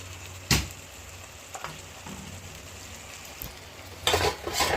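Pieces of quail meat dropped into hot gravy in a pan: a steady low sizzle with a few clattering thumps and stirring scrapes as the pieces go in.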